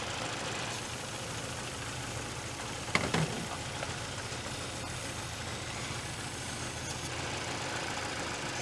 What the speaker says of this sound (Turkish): Bak, bak gaz vereceğim, araba kendini gaza atacak, enjektöre çalışacak.